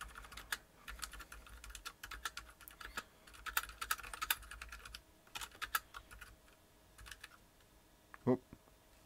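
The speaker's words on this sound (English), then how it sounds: "I'm just gonna type in something." Keystrokes on a Tex Yoda II mechanical keyboard fitted with MX Silent Red switches, a steady run of soft, muffled clicks in irregular bursts, close up, with a brief louder thump near the end and no talking.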